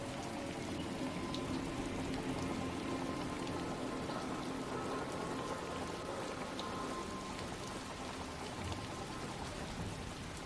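Steady, dense rainfall from the video game Chrono Odyssey during a beta playtest, a constant wash of patter that fills the whole stretch evenly without pause or talk.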